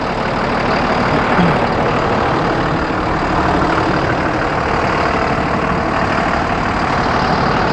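A Cummins ISB 6.7-liter 300-horsepower diesel idles steadily in a 2018 Freightliner M2 Grech GM40 passenger bus, a loud, even, close-up drone with no voices.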